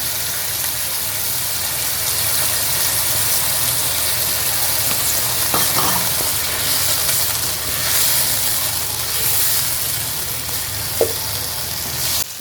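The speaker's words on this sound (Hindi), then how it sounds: "ये देखिए चिकन को भूनते हुए 3-4 मिनट हो गए हैं" Chicken for yakhni pulao fries in oil in a pot with yogurt and nutmeg-mace powder, giving a loud, steady, close sizzle with a couple of brief clinks and no voices.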